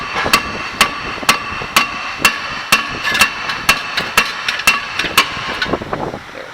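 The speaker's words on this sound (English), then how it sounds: "Now we're going to take the rotor off, hit it on the corner, don't hit it on the surface where the pad's right at." A hammer strikes the corner of a brake rotor during a Toyota RAV4 front bearing replacement, about a dozen sharp metallic blows in a fairly steady rhythm, loud and close, with no talking.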